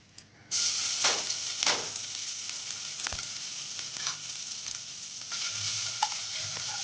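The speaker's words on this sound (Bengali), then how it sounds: "তাই তেলের মধ্যে আমি দিয়ে দিচ্ছি এক চা চামচের মতো আদা বাটা" Ginger paste hits hot oil in a wok and erupts into a loud, steady sizzle that starts abruptly and keeps hissing, with occasional crackles and spatters spread over the sizzle.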